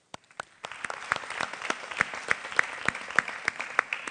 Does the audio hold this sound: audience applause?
yes